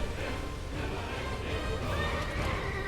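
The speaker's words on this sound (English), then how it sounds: "I have a big fucking horse" A horse neighs and whinnies up close in Final Fantasy 16, its call sustained over about three seconds against a steady, dense game soundscape.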